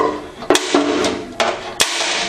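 Hammer blows strike a center punch into a spot weld on a Harley fender, four sharp metallic hits spaced unevenly over a steady background noise.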